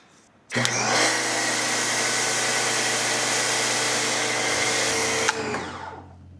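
An AVA Easy+ P50 pressure washer motor starts abruptly and runs at a loud, steady whine while spraying foam onto car wheels, then cuts off and winds down near the end.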